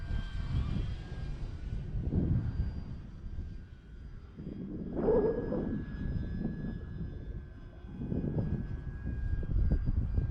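An E-flite T-28 1.2m RC airplane runs at half throttle in flight, a steady electric motor whine droning throughout at moderate distance. Wind rushes in the background.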